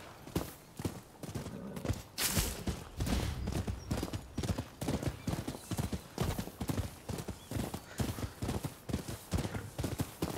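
A horse gallops in the video game Rise of the Ronin. Dense, rhythmic hoofbeats run continuously from start to finish, with a brief whinny near the start.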